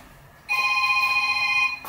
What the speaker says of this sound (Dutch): En mijn telefoon gaat.